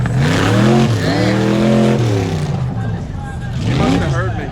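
A truck's engine revs hard while driving through mud, the loud motor rising and falling in pitch in two long surges with a brief dip between them, all near and continuous.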